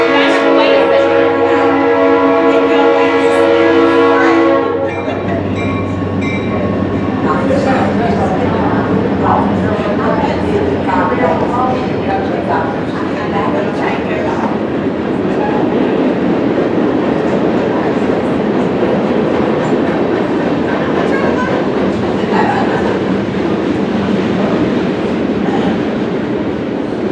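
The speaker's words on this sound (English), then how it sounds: "Here comes the train." A train passes by, opening with a loud sustained horn tone for a few seconds, then a heavy continuous rumble and rattle of railcars rolling close by, loud throughout.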